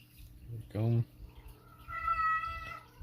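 A cat meows twice nearby, a short call followed by a longer drawn-out one, with faint background noise between.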